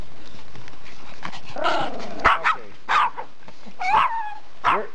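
Yorkshire terriers at play with a ball give several sharp, close barks and yips in short bursts, spaced irregularly over a few seconds.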